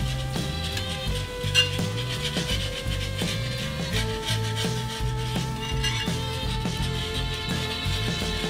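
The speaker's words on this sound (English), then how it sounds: "You want to make sure to give this a good whisk to incorporate the roux and the stock." A whisk scrapes and stirs roux into stock in a pot, a steady rubbing, clattering rhythm against metal that stays fairly loud and continuous throughout, with no talking.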